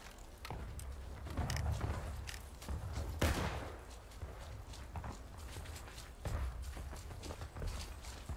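Scattered rifle fire crackles faintly through a video game war practice skirmish, irregular volleys and single shots mixed with a busy background of footsteps and movement.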